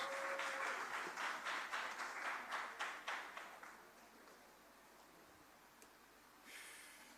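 Audience at a town hall consultation claps for about three seconds, distinct close claps that thin out and fade into a quiet room.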